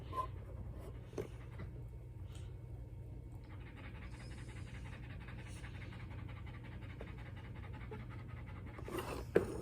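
A small dog pants rapidly and steadily close to the microphone, a soft rhythmic breathing that carries on for several seconds against a quiet room, with a faint scratch or two.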